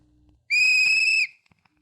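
A single steady whistle note on a vintage children's vinyl record, clear and sustained for under a second, standing alone against a quiet background.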